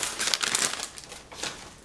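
Close, crisp crinkling of a plastic bag, with bursts of rustling that rise and fall irregularly over a couple of seconds.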